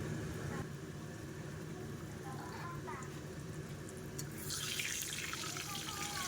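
Potatoes frying in hot oil in a kitchen pan, with water from the spatula making the oil spatter; a steady crackling sizzle with a brighter burst of spitting toward the end, quiet and close.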